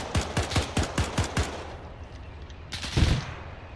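Machine gun in German Iron Front, a burst of about seven evenly spaced loud shots, a pause, then one more heavy report, close and alone with no talking.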